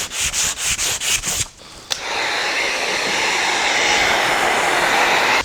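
Sanding primer ridges on a painted sign: a rapid run of short rhythmic rubbing strokes, then a brief pause and a steady, continuous abrasive scrubbing close by, loud and alone.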